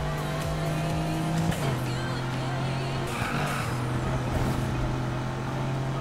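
In Need for Speed Heat, a car's engine holds a steady hum while its tires squeal and skid through a drift that builds in the second half. The sound is close and continuous, with faint game noise underneath.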